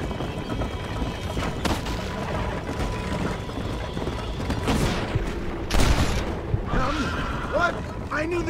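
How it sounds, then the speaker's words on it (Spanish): A horse whinnies in the Western video game Red Dead Redemption amid gunfire and rumbling game effects, while someone talks over the action. "Me quedé solo con un caballo, ¿eh?"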